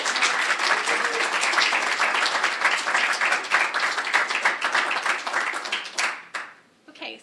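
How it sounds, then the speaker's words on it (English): Audience at a high school Poetry Out Loud event claps warmly for several seconds, a dense, even patter of many hands that thins to a few scattered claps and fades out at the end. "We could give them a round of applause."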